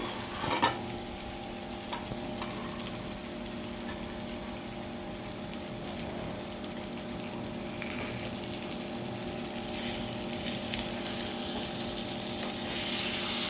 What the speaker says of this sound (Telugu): ఇప్పుడు అన్ని ఫిషెస్ తిప్పుకున్నాక మళ్ళీ ఒకసారి ప్లేట్ పెట్టి ఇంకొక 10 minutes ఫ్రై చేయాలి